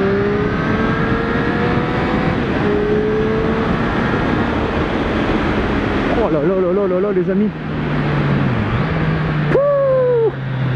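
Triumph 765 Street Triple RS motorcycle engine droning loud and close throughout, pitch rising and falling as the rider shifts, with the rider talking over it much of the time.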